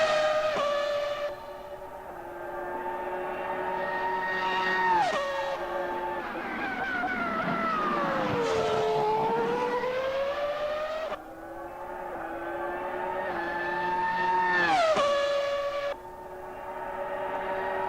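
High-revving Formula 1 car engines in a racing video game whine and wail, pitch sweeping up and down through gear shifts, loud and continuous with no talking.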